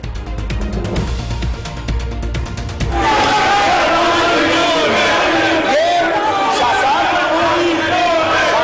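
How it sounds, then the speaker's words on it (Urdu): Opposition members chant and shout slogans in Pakistan's National Assembly, a loud continuous roar of many voices that swells after a few seconds of rhythmic chanting and fills the hall without a break. "نعرے بازی، ایوان مچھلی بازار بن گیا"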